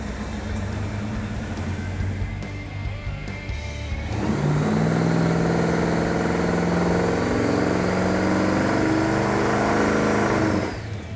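An old, worn-out car engine run up on a dyno, idling roughly at first, then revving hard to a loud sustained high-RPM roar for several seconds before dropping back off.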